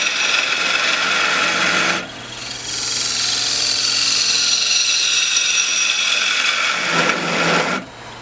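A wooden urn turning on a lathe has its bottom flattened, giving a steady broadband scraping hiss of tool on spinning wood that stops briefly near two seconds and again near the end.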